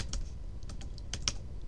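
Keys tapped on a computer keyboard while entering image dimensions, a few quick irregular clicks close up with no talking.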